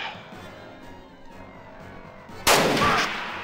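Gunfire in the tactical game Jagged Alliance 2, a sudden loud shot near the end of a quiet stretch, its blast ringing out briefly before easing off.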